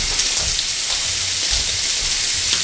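Lamb chops sizzle on a grill, a steady broadband hiss and crackle with scattered pops that runs unbroken and fairly loud, with no voices over it.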